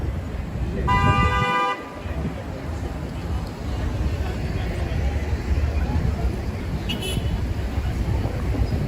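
Heavy street traffic rumbles steadily on West 49th Street near Radio City Music Hall in New York City, and one loud car horn blares for about a second near the start, with a brief faint toot later.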